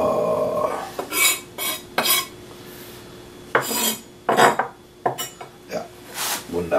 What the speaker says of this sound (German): Nüsse ein bisschen geschwenkt